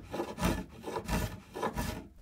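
A belt sander, set at an angle, flattens and bevels the edge of plywood. The abrasive rubbing comes in four rhythmic passes that swell and fade, close and steady, with no talking.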